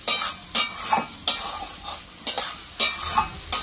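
A spoon scrapes and stirs mankochu in a hot pan, with repeated rhythmic strokes about once a second over a soft sizzle of frying, close and moderately loud.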